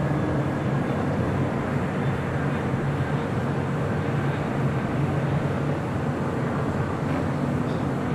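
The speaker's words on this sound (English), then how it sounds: "British Airways Speedbird Flight 282 heading back to London Heathrow in this 777-200ER" A British Airways Boeing 777-200ER departing LAX, heard as a steady, loud, unbroken jet-engine roar that holds at the same level throughout.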